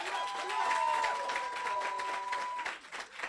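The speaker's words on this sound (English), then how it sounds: "I want to give them a specific round of applause because they're incredible" A live school poetry slam audience claps and cheers in a sustained burst of applause that tapers off at the end, with a faint whistle-like tone running under it.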